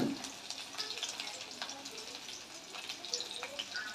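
Chopped garlic and green chilli fry in hot oil for an egg tadka, a steady close sizzle with crackling pops and some stirring throughout.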